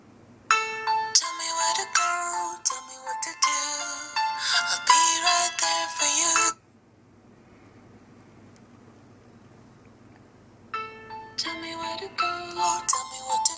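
Moto G smartphone loudspeaker playing a bright, tonal ringtone-like melody loud and clear at close range, sounding for about six seconds, pausing for several seconds of quiet hiss, then resuming.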